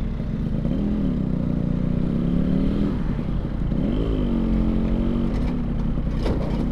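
A Yamaha RX King two-stroke motorcycle ridden in gear, with a loud steady engine drone and rising and falling pitch as the throttle changes, recorded close from the rider's position.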